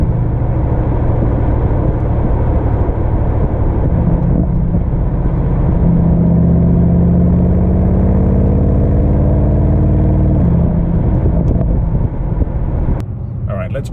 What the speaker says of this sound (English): We get a little bit of overrun on downshift now.